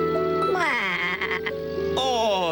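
A sheep bleats in several long, wavering, nasal calls close up, the cries bending in pitch and running nearly continuously with no talk over them.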